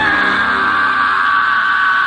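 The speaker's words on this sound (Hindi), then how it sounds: "तभी उन्हें राकेश के चिल्लाने की आवाज आई" A man screaming in a horror story, one sustained loud bellowing yell held close and alone for the whole stretch.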